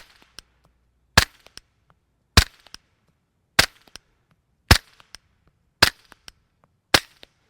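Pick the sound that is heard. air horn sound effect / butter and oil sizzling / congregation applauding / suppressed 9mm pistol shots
suppressed 9mm pistol shots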